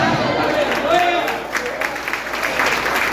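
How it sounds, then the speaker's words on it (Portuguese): Church congregation applauding during a family worship service, a broad wash of clapping and crowd noise under a voice, steady and fairly loud throughout. "Oh, aplauda mais forte."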